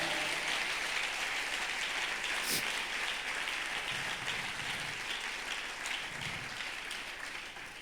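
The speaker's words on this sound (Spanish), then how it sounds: "Dale un aplauso fuerte a Jesús." A church congregation breaks into sustained, loud applause that fills the whole stretch, a steady roar of many hands with little talk above it.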